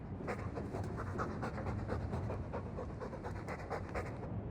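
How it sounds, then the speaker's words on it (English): A dog pants heavily in Dragon Age 2, the rapid, breathy rhythm continuing steadily and close up for several seconds without pause. "All that noisy dog breath, day in, day out."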